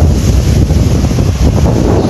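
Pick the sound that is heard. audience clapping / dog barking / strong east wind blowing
strong east wind blowing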